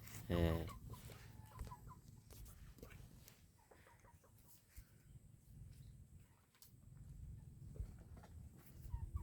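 A hen clucks sharply at first, then softer clucks and scratchy movement continue in a quiet outdoor setting.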